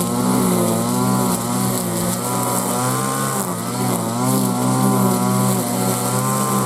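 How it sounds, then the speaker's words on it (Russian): A loud, close petrol saw or trimmer drones without break during mowing on a village plot, its strong harmonic whine shifting slightly in pitch, with no voices. "Шум пилы очень громкий."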